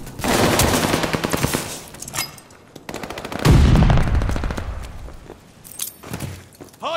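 Loud bursts of automatic gunfire fill a video game firefight at the hardpoint, with rapid volleys that swell, break off and return close up in dense repeated shots.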